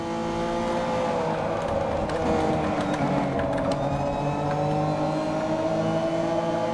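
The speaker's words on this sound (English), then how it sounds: "the sound design in this game, for a game that came out in 2012, here, we're going to come into a tunnel" Car engine in Need for Speed Most Wanted (2012 video game) droning steadily as it enters a tunnel, loud and continuous with echoing tones and slight pitch shifts under sustained acceleration.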